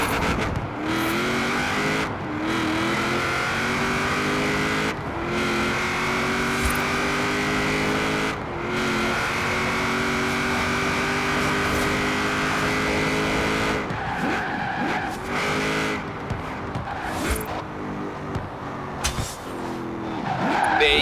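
Forza Horizon 4 car drifting on a street course, engine held at high revs with long continuous tire squeal and skidding throughout, briefly dipping as the throttle lifts between slides, loud and close with no talking.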